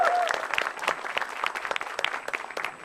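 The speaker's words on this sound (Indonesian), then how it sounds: "Boleh minta tepuk tangan teman-teman" An audience at an Indonesian stand-up comedy show claps, a fairly faint burst of dense, fluttering applause lasting a few seconds with no talk over it.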